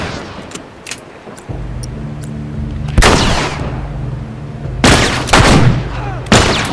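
The player's gun firing in The Last of Us, several loud sharp gunshots spaced a second or two apart, each with a ringing echoing tail over a low engine-like hum.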